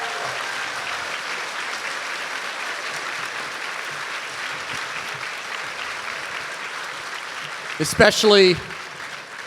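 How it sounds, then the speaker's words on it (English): Audience applause for the participants and actors of a Shakespeare Merchant of Venice mock-trial event: a steady, moderately loud wash of clapping throughout, with a brief louder burst of voices and noise near the end. "and another round of applause."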